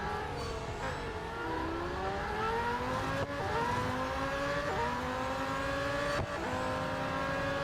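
McLaren Solus GT racing car engine in Real Racing 3, accelerating steadily with rising pitch through several gear changes, loud and close throughout with no talking.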